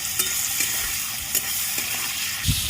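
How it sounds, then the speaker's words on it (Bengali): Shrimp coated in salt and turmeric fry in oil in a pan, with a constant loud sizzle and several sharp scraping knocks as a spatula stirs them at irregular intervals. "চিংড়ি মাছগুলো বেশি লাল করে ভাজবো না না হলে শক্ত হয়ে যাবে পরে"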